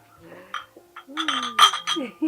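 Glasses clink together in a celebratory toast, a quick cluster of bright ringing taps in the middle, with voices talking around it.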